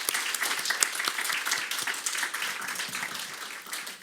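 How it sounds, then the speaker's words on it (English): Audience applause for the panelists at the close of a human rights handbook launch event, dense sustained clapping throughout, moderately loud and fading slightly toward the end. "we can give all of them a warm round of applause before we close"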